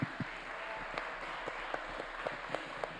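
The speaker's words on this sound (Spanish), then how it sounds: "Y en última instancia, un aplauso a Juan." A seated audience at a journalism talk gives a moderate round of applause, dense and even, with scattered sharper individual claps standing out across the few seconds.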